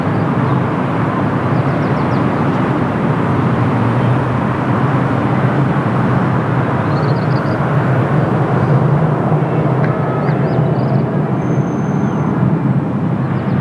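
A TAP Air Portugal Airbus A330-900 takes off at Lisbon Airport, its jet engines producing a loud, steady broadband roar that holds for the whole stretch without a break, with no voices.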